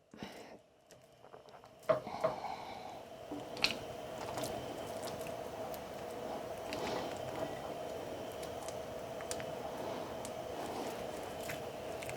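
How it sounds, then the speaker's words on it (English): Salisbury steak patties go into a nonstick skillet over a flame with a few soft thuds, then a steady, faint sizzle carries on, broken by occasional small ticks and pops. "I'm going to go ahead and add my Salisbury patties to my nonstick skillet"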